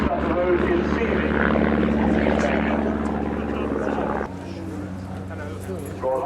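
A de Havilland Chipmunk propeller aircraft flies over an airfield, its loud, steady engine drone filling the clip and easing noticeably toward the end, with a voice talking over it.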